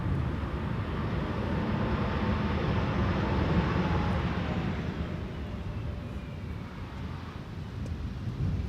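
A passenger airliner landing at Amsterdam Schiphol in a crosswind gives a broad, loud, continuous roar that swells and then slowly fades, mixed with gusty wind buffeting the microphone.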